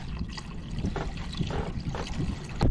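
Water pours steadily into a container with a continuous trickling, splashing flow, fairly close and moderately loud throughout, with no voices over it.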